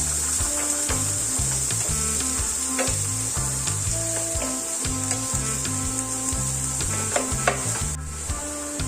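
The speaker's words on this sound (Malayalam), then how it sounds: "ഒന്ന് വഴറ്റി കൊടുക്കാം സവാള ഒന്ന് വാടി വരട്ടെ" Sliced onions sauté in a hot pan with salt, a steady loud sizzle throughout, broken by periodic scraping and clinking of a spoon stirring against the metal.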